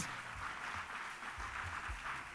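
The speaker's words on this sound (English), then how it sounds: "can we give them all a round of applause?" Audience applause at a data festival, a fairly faint, continuous patter of clapping from a crowd with a few low thumps, steady throughout and no speech over it.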